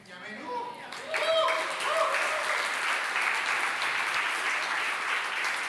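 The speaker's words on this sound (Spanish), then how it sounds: "déselo fuerte, fuerte ese aplauso al Señor en esta hora" A church congregation claps loudly during a Sunday service, the applause rising after a brief spoken stretch and then holding strong and even as a continuous crowd roar.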